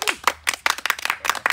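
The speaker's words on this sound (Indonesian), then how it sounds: "Tepuk tangan dulu." Several people clap their hands together in quick, uneven bursts, a short round of close, lively applause from a small group gathered for a holiday outing.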